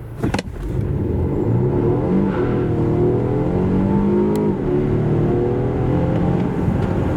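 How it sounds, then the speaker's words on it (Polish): A 2024 Volvo V90 T8 Polestar Engineered, a 2.0-litre 455 hp plug-in hybrid estate, accelerates hard from 0 to 100 km/h. A steady loud engine drone climbs in pitch through the run, with no talking. "W ten sposób testowane V90 przyspiesza od 0 do setki."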